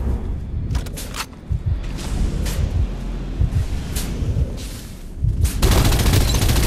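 Farlight 84 video game gunfire played on an iPad mini 6, loud close bursts and rapid automatic volleys with heavy thumps, ending in a sustained barrage.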